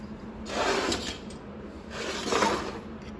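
Two rasping passes of 600-grit sandpaper rubbing over the lip-seal surface of a transmission piston, each stroke lasting about half a second, close and fairly loud with no voices.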